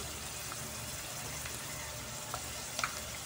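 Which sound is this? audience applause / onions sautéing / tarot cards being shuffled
onions sautéing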